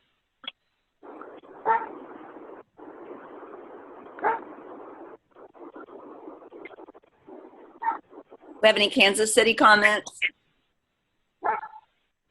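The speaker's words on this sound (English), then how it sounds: "I hear a dog barking." A dog barks a few times in the background, brief yips scattered between stretches of quiet talk by a person.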